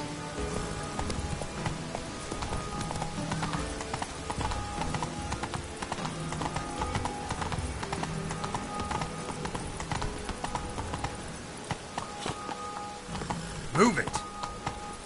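Roach, the horse in The Witcher game, walks with steady clip-clop hoofbeats under a busy layer of music and ambient sound, with a brief louder burst near the end.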